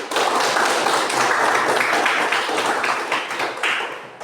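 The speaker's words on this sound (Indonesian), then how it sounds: "Sekarang saya minta Anda semua tepuk tangan untuk seluruh kelompok." Dense applause from a classroom group of students fills the room, with many hands clapping together at a steady level throughout before easing slightly near the end.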